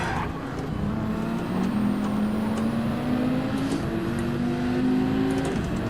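A race car engine in Gran Turismo 7 drones steadily, its pitch slowly rising as the car comes into a corner under late braking, loud and continuous with no talk.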